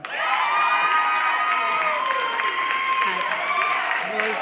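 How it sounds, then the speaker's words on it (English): At a fall university convocation a noisy crowd cheers, with loud whoops, shrill shouts and clapping blending into a continuous roar close by. "Noisy crowd."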